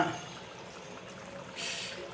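Liquid pours steadily into a pot of fenugreek-leaf kuzhambu in a soft, close trickle, swelling briefly louder toward the end.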